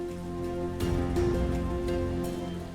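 Steady rainfall during the monsoon in a dramatized Ramayana scene, a constant wash of falling rain heard throughout with no voices over it.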